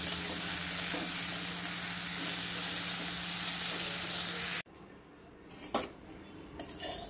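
Parshe fish, or mullet, fries in hot oil in a wok with a loud, continuous sizzle for several seconds, then stops abruptly, leaving a few soft clinks of utensils against the pan.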